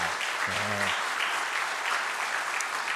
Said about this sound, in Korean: 우리 박수로 환영해 주시길 바랍니다